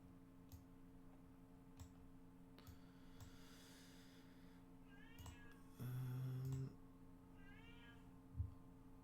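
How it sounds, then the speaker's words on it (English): A cat shut out of a room meows and wails with rising, warbling cries, fairly faint and a little distant, over a soft steady ticking and hum, with a louder electronic buzz in the middle. "Hopefully my cat screaming is not bothering you guys."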